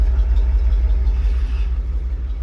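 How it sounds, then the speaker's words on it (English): A used truck engine idles low and steady, a deep, even rumbling pulse close by, with no voices over it. "Give a nice low idle here."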